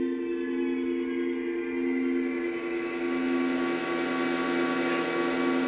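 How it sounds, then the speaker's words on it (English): Synthesizer sonification of quasars, pulsars and comets, a steady sustained tonal drone of layered harmonic tones that holds level throughout, with faint high flickers near the end and no voices. "that's your sound of including all of the sonified sounds that we get from outer space"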